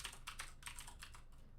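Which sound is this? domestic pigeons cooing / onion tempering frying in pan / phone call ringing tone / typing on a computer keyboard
typing on a computer keyboard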